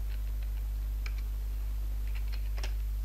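A computer keyboard being typed on at close range: a short, faint run of soft, uneven key clicks over a steady low electrical hum, with no voices.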